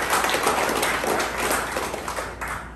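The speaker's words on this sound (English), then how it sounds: "A round of applause." Applause from an audience at a police PSPC graduation ceremony in the Philippines, dense clapping close by for about three seconds, tapering slightly toward the end.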